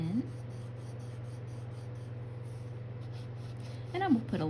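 Woodless rainbow colored pencil filling in green on paper, a steady, soft, continuous scratching stroke throughout, close up, with a brief voice at the start and end.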